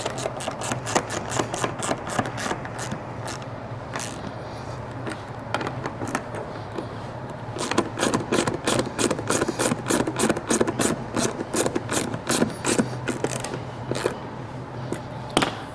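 Roof rack base bolts tightened on a Lexus GX 470 during an upTOP Overland Alpha or Bravo rack install give rapid, regular mechanical clicking close by, with a brief lull before a louder, busier second stretch.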